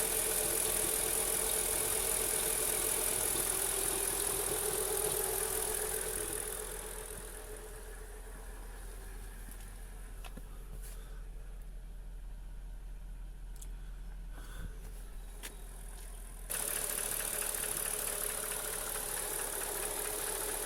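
A Mercedes S430 V8 engine idles steadily with a low gurgling hum and a faint knocking undertone, a louder hiss fading out midway then returning near the end.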